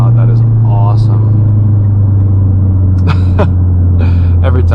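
A 2011 MazdaSpeed3 engine pulling hard under acceleration, a loud steady low drone heard from inside the cabin, with someone talking over it.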